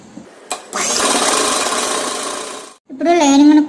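Sewing machine stitching the lining of a lehenga made from an old saree: a short burst, then a sustained whirring run of stitching for about two seconds, ending with a brief tonal squeal.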